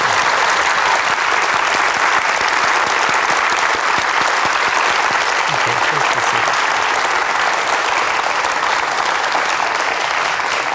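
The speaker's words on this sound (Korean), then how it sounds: "다시 한번 박수 보내드리겠습니다." An audience at a lecture event claps together in a sustained burst of applause, loud and dense from start to finish, with a faint murmur of the crowd beneath the steady patter of hands.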